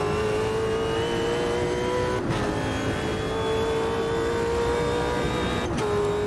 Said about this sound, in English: I think the Super V8s are one of the best cars in the game.